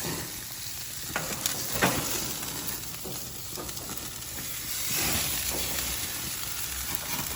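Barbecue ribs sizzling on a grill as they are flipped, a continuous crackling sizzle with a few sharp taps and scrapes, no one speaking.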